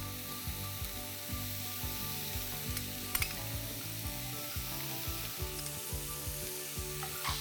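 Corn and Schezwan sauce mixture sizzling in a pan, with steady frying crackle broken by rhythmic stirring strokes and a few sharp clinks, close and moderately quiet, no voices.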